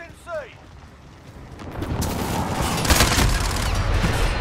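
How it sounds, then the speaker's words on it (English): Precision airstrike explosions in a first-person shooter game rumble in as a sustained, building roar of blasts and debris that swells louder toward the end, with a voice speaking over it. "Be advised, friendly precision airstrike."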